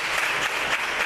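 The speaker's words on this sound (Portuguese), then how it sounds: "Vamos aplaudir o Senhor." A church congregation breaks into loud, full applause, many hands clapping in a steady, dense burst close at hand.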